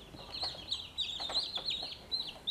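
Newly hatched, fluffy chicks in a Hovabator Genesis incubator peep in quick, high, overlapping chirps, faint and close against a soft background hiss.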